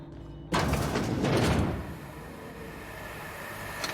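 A mechanical door in The Outer Worlds slides open with a sudden loud whoosh and grinding hiss lasting over a second, then settles into a low steady hum.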